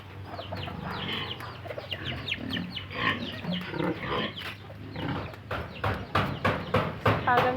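Chickens cluck and chatter on a farm, a steady mix of fowl calls with a few sharper clucks building toward the end, heard fairly close.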